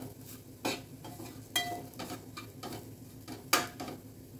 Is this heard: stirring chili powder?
yes